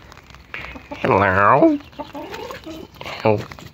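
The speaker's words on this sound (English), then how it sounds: "That is one big chicken." Loud, close video game chicken clucks and squawks in two bursts, with faint background sounds between them.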